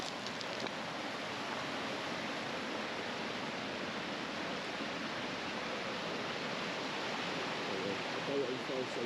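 Continuous rushing water in Mostar, Bosnia and Herzegovina, a steady broadband wash like a strong river current flowing nearby, even in loudness throughout.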